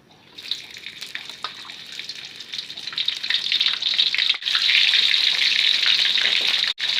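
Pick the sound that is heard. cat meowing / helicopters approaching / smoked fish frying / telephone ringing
smoked fish frying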